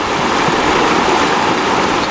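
An RC Thrasher jet boat runs through river rapids with a 5S Lipo setup and steel skid plates; loud continuous rushing water dominates, with any motor whine buried in the churn.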